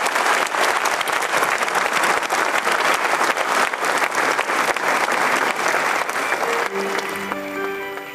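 An audience gives a big, sustained round of applause at an honorific lecture in Ghana celebrating a courtroom figure, steady dense clapping throughout that thins near the end as a few musical tones come in.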